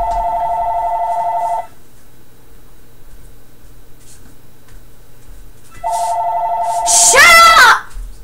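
A telephone ringtone plays as a steady tone burst at the start, falls silent, then rings again near the end, joined by a rising chirpy electronic trill during a Minecraft modded survival session.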